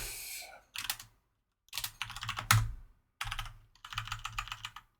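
Bursts of rapid keyboard typing in several short runs separated by brief silences, close and crisp.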